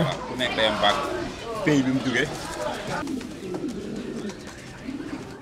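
Purebred show pigeons coo in low, throaty bursts close by at an agricultural fair while a person talks over them.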